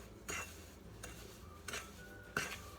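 A spoon mixes chocolate chip cookie ingredients in a bowl, producing four soft, spaced scraping clinks against the bowl over a quiet background.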